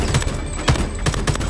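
Rapid bursts of gunfire from a player firing bullets at a tank in the video game Homefront The Revolution, several close, sharp volleys in quick succession with no talk.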